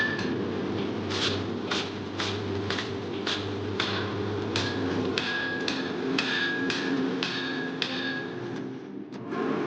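A knife blade is forged by hand with a hammer, a rapid, even series of sharp metallic strikes ringing out close by for nearly ten seconds over a low background rumble, with no talking.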